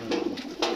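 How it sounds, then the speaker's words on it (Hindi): An antique pigeon kept on a rooftop loft in Gujranwala coos close by in three soft, throaty pulses within a brief moment. "ये है जी कबूतर"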